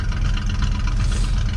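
A 1973 Ford F250 engine idles in freezing cold, a brief, steady low rumble with an even, slightly uneven throb, close and continuous.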